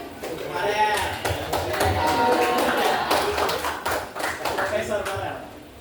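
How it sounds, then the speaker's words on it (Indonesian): Students in a classroom clap in a choppy, uneven burst of hand claps while voices talk over the clapping the whole time. "Oke, boleh kita kasih tepuk tangan?"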